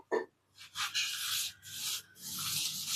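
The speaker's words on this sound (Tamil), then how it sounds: "பட்டர் சீட் எடுத்துகிட்டு அதில் கொஞ்சமாக எண்ணெய் தடவிக்கங்க" Oil being rubbed across a sheet of butter paper with a hand, giving soft papery rasping strokes in a few bursts separated by short pauses, close and fairly quiet.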